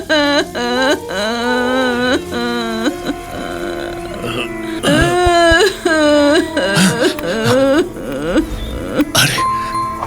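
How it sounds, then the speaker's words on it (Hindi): A woman wails and sobs in a horror story sound effect, with long, quavering cries and moans rising and falling in separate bursts, loud and close, with short pauses between them. "एक महिला के चीख चीख कर रोने की आवाज गूंजने लगी।"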